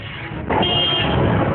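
A pressure horn blares in road traffic, one long loud continuous honk that starts abruptly partway through over a rumbling background of vehicles.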